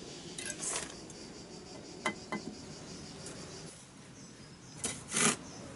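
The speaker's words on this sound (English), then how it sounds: "We are cutting the mortar with the pointing trowel." A steel pointing trowel scrapes and cuts fresh mortar from the joints of uncoated brickwork on an elliptical arch, giving a few short gritty rasps and scrapes separated by quiet gaps, close up with no talking.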